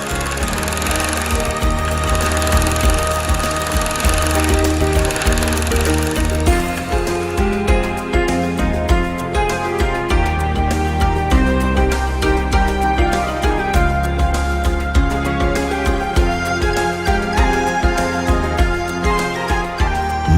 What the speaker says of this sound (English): After quilting, the tab edges are prepared using German technology.